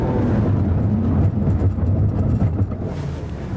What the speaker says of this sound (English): We're gonna find out how well this thing stops.